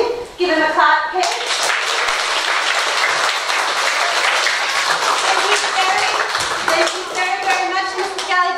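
At a school Christmas concert, the audience claps for a young piano player after a brief spoken prompt, the applause swelling quickly and holding steady, with voices rising again near the end.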